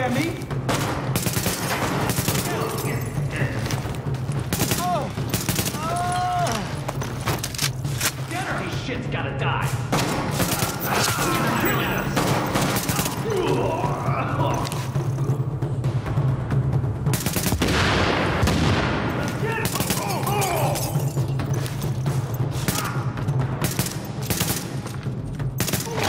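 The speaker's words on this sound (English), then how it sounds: "The escort party's taking heavy fire from the roof." A rooftop gunner in The Division opens up with sustained automatic gunfire, dense rapid bursts and thumping shots that pound continuously for the whole stretch, loud and close, with voices talking in among the shooting.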